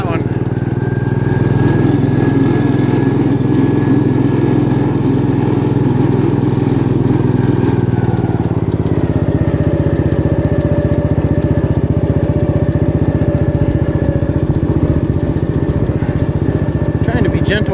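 A 1972 Gravely 432 tractor engine runs steadily at a loud, close idle, a constant rough mechanical drone that holds through the whole stretch with a slight change in tone partway.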